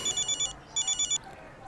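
A telephone rings in two short bursts of rapid electronic trills with a pause between them, fairly quiet against a soft background.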